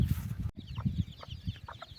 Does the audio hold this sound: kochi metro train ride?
no